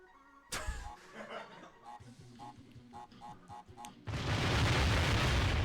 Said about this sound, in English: you're going to have wildly compressed explosion audio there that blows your eardrums out